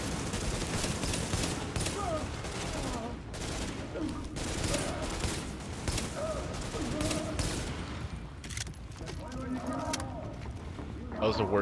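Gunfire in the video game Tom Clancy's The Division, with dense bursts of rapid shots and scattered impacts filling the clip at a loud, steady level, with some game noise mixed in.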